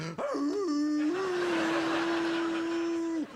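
Someone imitates a wolf howl, a long sustained tone held steadily for about three seconds before breaking off.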